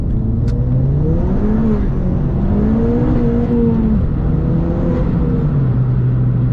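A car fitted with a Cusco RS limited-slip differential accelerates hard under full throttle, its engine note loud and close, climbing and falling through steady revving pulls with no talking.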